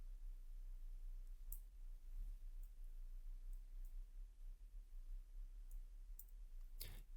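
Computer mouse clicks made while editing an image in Photoshop, scattered sharp single clicks spread across the stretch, faint and close over a low steady hum, with no talking.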